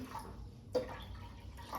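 A glass of water splashes and pours into a saucepan after a short quiet start, a soft liquid rush with a few faint drips, close by.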